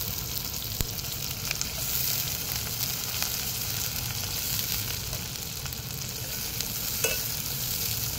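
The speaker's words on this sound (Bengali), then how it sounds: "পেঁয়াজটাকে একটু ভেজে নিতে হবে" Sliced onions frying with whole garam masala in a pan, a continuous dense sizzle with occasional faint ticks of the spatula stirring throughout.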